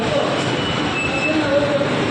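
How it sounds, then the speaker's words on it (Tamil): A monorail train pulls into a station in Putrajaya, Malaysia, with a steady close rumble and faint brief wheel squeals over platform ambience. "ட்ரெயினும் வந்துருச்சு மோனோ ரயில் நல்லா இருக்குங்க"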